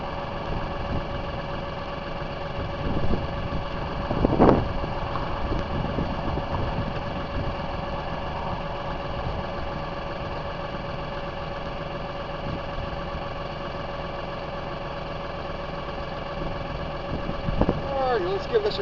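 A tractor engine idles steadily at a low rumble throughout, near and continuous, during work on a homemade rock screen, with someone talking over it and a couple of brief clunks.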